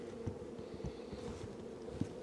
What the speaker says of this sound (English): lots of bees are queuing up behind her